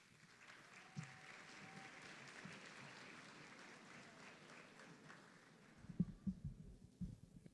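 Audience applause at a high school honors convocation welcoming an assistant principal, a steady broadband clatter of clapping from a large crowd that fades toward the end, followed by a few louder nearby thumps.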